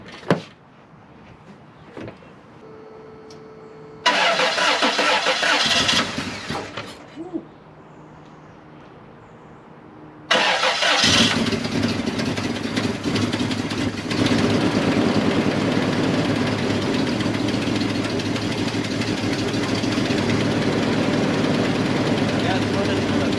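A Toyota 4Runner engine cranks, catches, then dies, and on a second try it starts and keeps running with a rough, ticking exhaust rattle from an exhaust leak.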